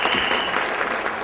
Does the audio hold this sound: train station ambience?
no